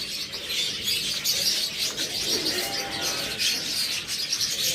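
A pair of pet birds kept for sale chirp and call steadily over a dense, noisy background of other birds, the calls layered and continuous throughout with no speech.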